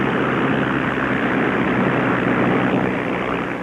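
A P-51 Mustang racing plane, number 64, flies past at the Reno air races, its propeller engine making a loud, steady broadband roar throughout, with no talk.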